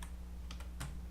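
A computer keyboard is typed on quietly in a brief burst of a few soft, close clicks over a low background hum.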